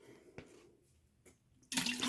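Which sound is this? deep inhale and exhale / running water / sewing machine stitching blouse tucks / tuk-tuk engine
running water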